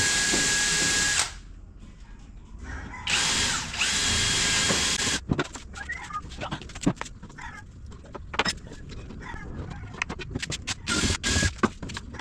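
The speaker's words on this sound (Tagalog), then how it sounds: "Tapos ibubutas na." A power drill bores a hole during kitchen sink cabinet work: a loud, high whine in a short burst, a pause, a second burst, then scattered knocks and handling clatter.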